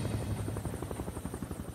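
Helicopter flying over the crash site of Germanwings Flight 9525 in the Alps, a steady loud rotor chop with pulsing blade beats and a high turbine whine throughout.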